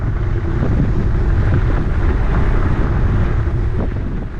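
Strong headwind buffets the microphone while riding a fat-tyred Pugsley bike over soft, freshly graded gravel, a loud continuous rushing roar with low gusty rumble and no talking.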